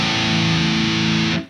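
A distorted electric guitar with gauge 13 strings in dropped A tuning rings out as one low, sustained note, loud and steady for over a second before being cut off.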